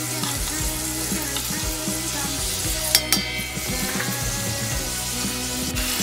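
Onions and garlic fry in a pan for a chicken and vegetable tandoori, giving a steady, close sizzle with stirring scrapes and a couple of brief clinks, with no talk over it.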